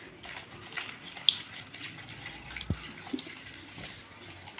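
Water poured in small amounts into batter in a plate, a soft trickling splash with faint stirring sounds, quiet and close, while making a batter for an ash gourd dish.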